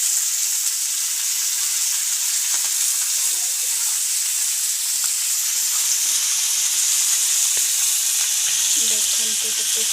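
Small fish fry in hot oil with a dense, continuous crackling sizzle, loud and near, holding steady for the whole stretch with faint clicks of stirring and no speech.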